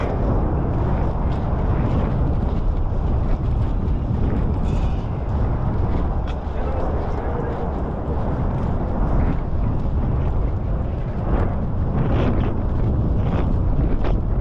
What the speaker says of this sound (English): A little bit of wind picking up.